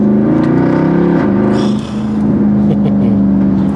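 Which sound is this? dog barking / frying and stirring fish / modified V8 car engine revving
modified V8 car engine revving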